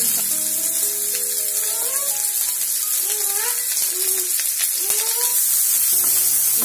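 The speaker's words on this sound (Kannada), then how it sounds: "ಈಗ ಆನಿಯನ್ಸು ಮತ್ತು ಕರ್ಬೇವಿನ ಸೊಪ್ಪನ್ನ ನೀಟಾಗಿ ಈ ಥರ ಫ್ರೈ ಮಾಡ್ಕೋಬೇಕು" Onions and curry leaves fry in a few spoons of hot oil with mustard seeds, a steady, close sizzle running throughout while a voice talks over it.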